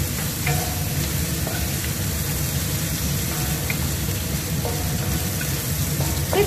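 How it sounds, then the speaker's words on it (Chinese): Garlic and ginger slices sizzle in hot oil in a frying pan, a loud, steady, dense crackle that carries on throughout with faint scraping of a utensil. "先爆香，蒜米还有姜片"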